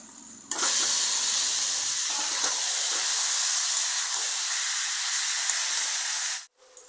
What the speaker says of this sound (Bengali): এইবার আমি এই মাখানো মশলা এই মাংসটা দিয়ে দিচ্ছি